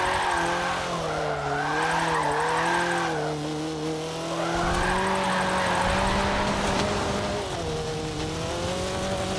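A car drifts in a racing video game with damage turned on: tires squeal continuously with wavering pitch over a steady engine drone, sliding in long sweeps for the whole stretch with no talking.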